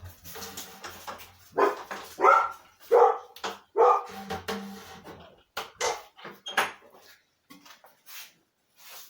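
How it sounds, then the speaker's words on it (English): A dog barks repeatedly at close range in uneven bursts, sharp yaps with short pauses between, some softer whines and rustling near the end. "I can't hear anything when he's barking over the top of everything"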